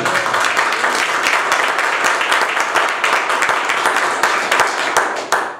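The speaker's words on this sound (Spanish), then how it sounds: "Denle un aplauso, Señor." A congregation gives loud, sustained clapping and applause inside the Palabra de Vida church in Sioux City, with dense, steady claps continuing for several seconds.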